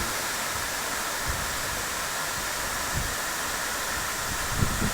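A waterfall flows in a broad, even wash of rushing water, loud and unbroken, with only faint low thumps underneath and no voices.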